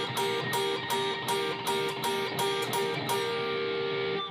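A slow electric guitar double stop from a solo, two notes picked together about eleven times in an even upward-stroke rhythm, each attack bright and clear over a ringing sustain, with no voices.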